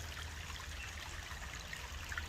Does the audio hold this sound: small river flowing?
yes